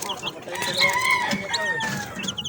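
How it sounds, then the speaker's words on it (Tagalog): Six-day-old chicks peep in a cardboard box, giving a steady stream of high, sliding chirps close by with little else around them. "Day 6 na mga kamanok ng ating 6 pieces na sisiw. So ito, nasa karton sila."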